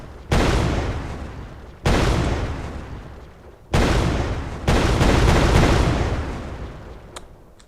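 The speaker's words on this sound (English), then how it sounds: "you can hear that on the explosion there is kind of an echo" Weapon fire in an Unreal Engine 4 game sets off four loud, close booming explosions in turn, each followed by a long echoing rumble that fades before the next blast.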